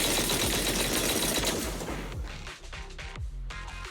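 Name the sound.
heavy cannon fire in a video game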